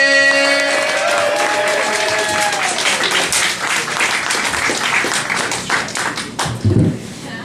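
Comedy club audience clapping and cheering for the next comedian, loud and dense throughout, with musical tones sounding in the first few seconds and a few heavier thumps near the end.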